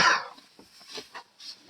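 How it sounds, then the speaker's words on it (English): A person coughing during a podcast conversation, one sharp loud cough at the start followed by a few softer throat-clearing sounds and breaths, close to the microphone. "And cough."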